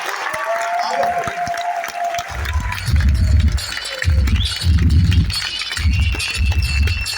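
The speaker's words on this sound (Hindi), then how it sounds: "ताली बजा के दिखाएं आपके अंदर एनर्जी" An audience at a business-plan meeting claps in several loud bursts of rhythmic applause, coming after a stretch of someone speaking over a microphone.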